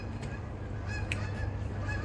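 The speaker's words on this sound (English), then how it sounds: "Geese." Geese honking repeatedly, a few loud nasal calls rising over a steady flock of overlapping honks nearby.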